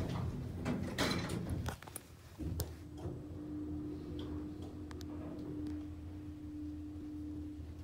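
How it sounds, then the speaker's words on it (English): Thyssenkrupp lift doors in a shop slide shut, with a brief mechanical clunk near the start, then a steady motor hum running underneath for several seconds. "Doors closing."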